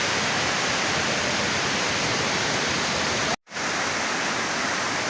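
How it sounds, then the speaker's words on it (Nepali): A low final-tier waterfall at Temple Park Rawang, Malaysia, falling in the rain: a loud, dense, unbroken rush close by, cut off for a split second before resuming. "अब यो चाहिँ अन्तिम स्टेपको झरना हो।"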